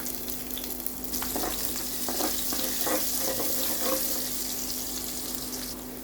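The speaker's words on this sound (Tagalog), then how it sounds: "With the same pan, let's fry our garlic." Garlic fries in a pan used just before for lamb, a steady bright sizzle with a few crackling pops and stirring sounds, close and continuous.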